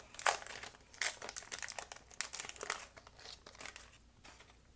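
A 1991 Fleer baseball card pack wrapper being torn open, bursts of crinkling and ripping plastic up close, irregular and fairly quiet, with no talking.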